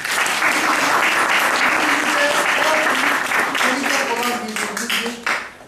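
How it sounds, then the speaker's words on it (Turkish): An audience applauds at a Rotary club awards ceremony, a loud dense wash of clapping that holds steady, then thins and fades near the end, with a few voices mixed in. "Bu yıldızı bir alkışlamanızı rica ediyorum."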